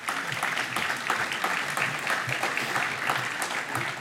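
Dense, steady applause from an audience at a Christmas lunch debate held at Les Adrets in Claira, sustained and fairly close throughout with no pauses.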